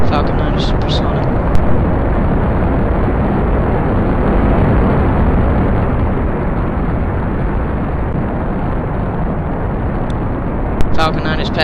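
Falcon 9 rocket engines roar through the ascent in a heavy, continuous low rumble, broad and loud from start to finish without a break.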